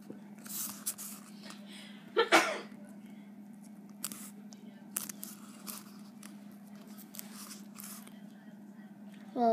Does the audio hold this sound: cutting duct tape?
yes